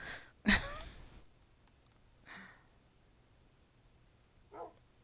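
Minecraft dogs barking: one loud, sharp bark near the start, then two fainter, shorter barks spaced out over a quiet background.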